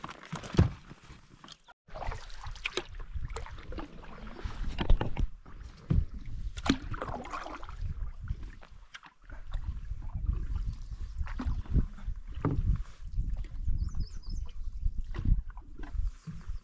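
Canoe paddling on a wilderness lake in the Boundary Waters, with repeated paddle strokes and water splashes, knocks against the hull and a little nearby movement, fairly close and steady over most of the stretch.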